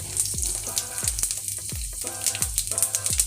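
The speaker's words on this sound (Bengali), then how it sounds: "তেজপাতা শুকনো লঙ্কা দিয়ে দিলাম পাঁচ পাঁচফোড়ন" Bay leaf, dried red chili and panch phoron spices frying in hot oil, a loud, close, steady crackling sizzle with repeated stirring scrapes and pops throughout.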